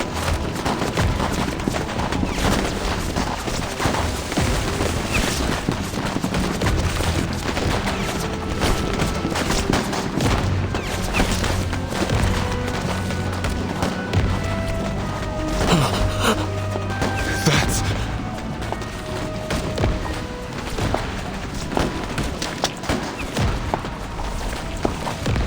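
Gunfire and explosions in a Reverse 1999 game battle, dense bursts of rapid shots and booming impacts rolling continuously over a steady musical bed.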